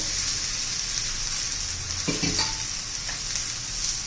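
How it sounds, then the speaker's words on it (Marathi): Steady, dense sizzle of oil frying poha thalipeeth in a pan, loud and continuous throughout, with a couple of faint stirring or scraping touches midway. "हे पहा साईडने असं तेल सोडायचं."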